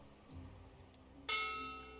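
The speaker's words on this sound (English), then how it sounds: "Bell." A bell in the video game Dreamfall Chapters strikes once with a loud, sudden clang partway through and rings on, slowly fading over quiet game ambience.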